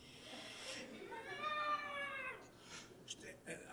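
A human voice imitates a cat's drawn-out meow, a single wailing, rising-then-falling cry, faint, with light laughter and murmuring around it.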